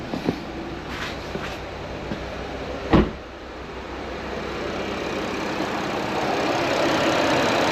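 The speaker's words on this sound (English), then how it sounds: "Okay, the fans are definitely on." The engine cooling fans of a 2020 Chevy Blazer run at idle: a steady, broad whooshing roar that grows gradually louder toward the end, with one brief thump partway through.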